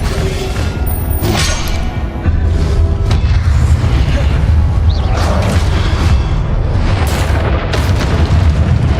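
Incendio spell blasts in Hogwarts Legacy go off as loud booming bursts over dense, continuous combat noise, with several sharp flares scattered through the fight.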